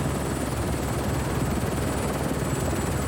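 Steady whirring rotor drone of a small drone flying low beneath oak trees in woods, a constant close buzz holding unbroken throughout with no voices.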